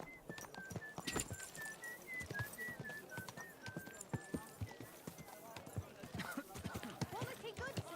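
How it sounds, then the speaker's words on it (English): Horse hooves clip-clop steadily in Kingdom Come Deliverance 2, a brisk rhythmic trot close by, mixed with a whinny and faint game chatter. "Beautiful horse."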